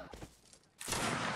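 Enemy riflemen open fire in a multiplayer shooter game: a sudden, loud burst of dense gunfire rushes in after a stretch of quieter sound and keeps going without a break.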